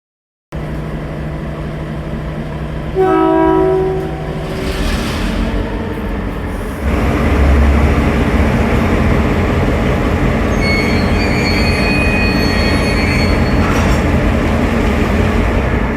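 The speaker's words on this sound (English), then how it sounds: "the locomotives tow the train outside of the incident section where power from the overhead is live" Heavy rail rumble builds as locomotives tow a derailed train from the incident site, with a brief squeal of wheels and a loud continuous grinding roar close by.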